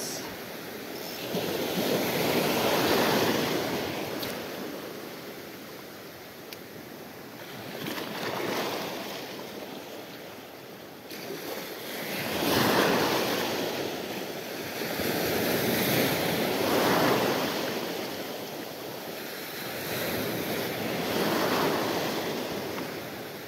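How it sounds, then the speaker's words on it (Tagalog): Ocean waves surge and crash in slow, rolling swells at a shoreline fishing spot. Each surge builds to a roar and then recedes, wind buffets the microphone throughout, and no voices can be heard. "Sabing alon talaga master. Biglang lumakas."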